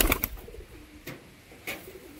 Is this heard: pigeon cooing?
yes